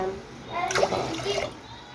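Water pours into a pot of sugar to make syrup for rasgulla, a short rushing splash lasting about a second at close range before fading back into quiet room noise.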